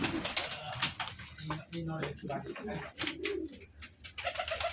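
Pigeons, including white Giribaz birds, coo in a small enclosed loft, soft repeated burbling calls running under and between close conversational speech.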